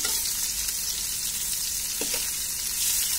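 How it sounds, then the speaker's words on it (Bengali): Eggplant pieces lightly frying in a pan give a steady, close sizzle with soft crackles running through, and no one speaks. "হালকা ভেজে নেব"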